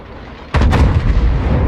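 A World of Warships battleship fires its front guns at an enemy Missouri: a sudden, loud, heavy boom with a sharp onset, followed by a sustained deep rumble of the salvo.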